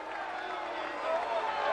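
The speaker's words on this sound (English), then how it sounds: "the crowd is booing" A stadium crowd at a 1996 college track and field meet between Washington State and Oregon gives off a dense, distant roar of many voices that swells toward the end, consistent with booing.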